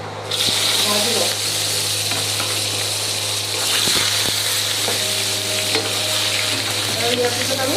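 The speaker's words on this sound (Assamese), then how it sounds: "মাছ ভজা তেলখিনিতে আমি কাটি লোৱা অমিতাখিনি ভাজি লওঁ।" Cut papaya pieces fry in leftover fish-frying oil, giving a loud, steady sizzle with occasional clinks and scrapes of utensils throughout.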